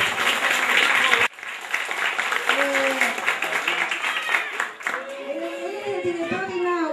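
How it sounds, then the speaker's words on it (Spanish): An audience at a community celebration in Melo, Uruguay claps loudly, dense applause that briefly drops out, then continues with voices talking and calling over it. "Un aplauso para él."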